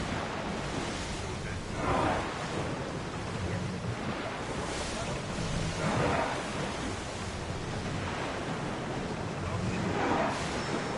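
Open-sea waves in Assassin's Creed Odyssey: a steady wash of surf and wind around a sailing ship, with swells rising and falling roughly every few seconds, and voices faintly present.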